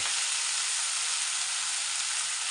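Loud, steady, bright sizzling of vegetables frying in a hot pan in a village kitchen in the Uttarakhand hills, a continuous hiss with no talking.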